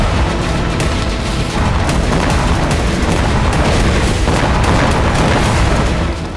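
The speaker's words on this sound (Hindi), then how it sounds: "वहां 15 से 20 किलो के विस्फोटक से धमाका बड़ी तबाही ला रहा है" Explosion from a 15 to 20 kg explosive charge, a dense, continuous roar of booming blasts and crackling bursts, loud and sustained throughout with no pauses.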